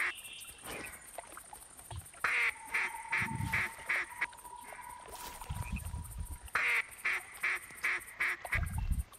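Ducks quack repeatedly in a duck hunt in The Hunter 2015 video game, short rhythmic bursts of calls recurring through the scene at moderate distance, with faint water sounds between them.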